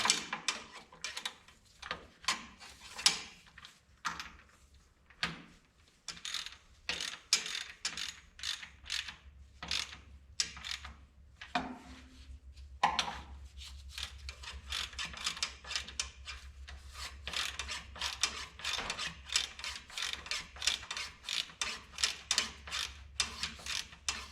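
A ratchet wrench clicks in rapid repeated bursts as bolts are evenly tightened on a 1969 Minneapolis Moline U302 engine during reassembly, close and steady with short pauses between strokes, no talk.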